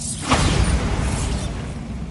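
The Bombarda blasting spell goes off in the video game Hogwarts Legacy: a sharp whooshing burst hits early, then a broad rumbling blast slowly fades away. No one speaks.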